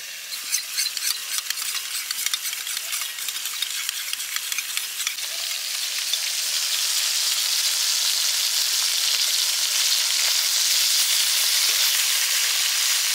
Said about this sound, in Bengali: মাছটা আমার ভাজা হয়ে গেছে, এবার তুলে নেবো।